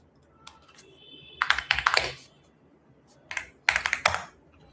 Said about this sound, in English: The keyboard sound is majestic.